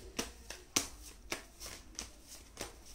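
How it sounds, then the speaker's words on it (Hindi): Tarot cards being shuffled by hand, a series of crisp riffling snaps and soft flicks repeating irregularly and close up, with no voices. "टैरो कार्ड्स भी ले लेते हैं।"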